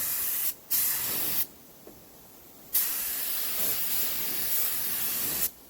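Bursts of hissing spray from a paint spray gun painting a truck, several seconds each, separated by short pauses, loud and close.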